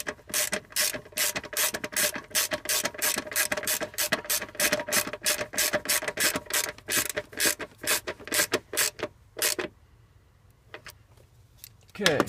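A hand ratchet tightens a bolt on a bracket near a positive battery cable, giving a fast run of close, sharp clicking strokes in steady bursts that stop near the end.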